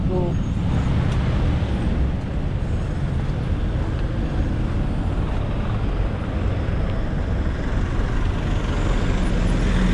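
Heavy road traffic of cars and buses in congested Philippine streets: a dense, continuous broadband roar of engines and tyres, steady and loud throughout, with a brief hiss early on and possible faint voices.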